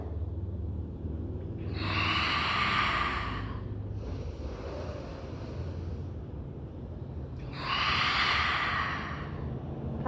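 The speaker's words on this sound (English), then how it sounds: "Take a deep breath." Deep breaths during an ab workout: two long, loud breathy exhales close to the mic with a quieter breath between them.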